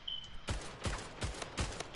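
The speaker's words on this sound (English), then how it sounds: "he's shooting very fast" Rapid gunfire in the arena shooter Splitgate: four sharp, evenly spaced shots crack out at a quick, steady rhythm, loud and close, with no talking.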